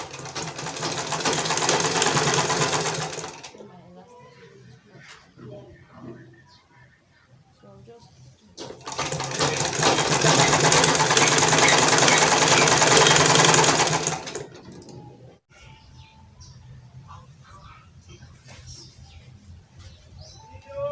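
A sewing machine stitches gown fabric in two loud, steady whirring bursts separated by quiet handling noises, with soft background sounds between and after the runs.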